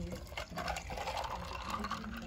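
Agua de horchata being poured into a cup, a continuous close liquid splash and fill with steady broadband rush lasting the whole moment.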